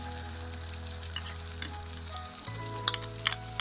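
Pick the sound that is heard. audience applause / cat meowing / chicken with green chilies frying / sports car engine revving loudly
chicken with green chilies frying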